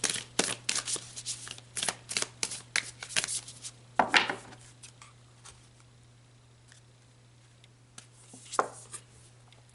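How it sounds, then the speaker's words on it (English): Tarot cards being shuffled for a reading, a quick series of crisp riffling and snapping bursts, close and fairly quiet, thinning out toward the end, with no speech. "let's pull one final card, Taurus"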